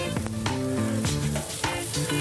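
Venison loin sizzling on a grill, a steady bright crackle with tonal hum and occasional bumps as pieces are turned, close and continuous throughout.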